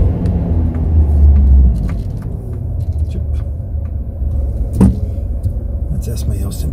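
A car pulls out of a multi-storey parking garage in the old town by the quay on Madeira. Its steady, close engine and road rumble echo off the concrete, with a brief knock partway through.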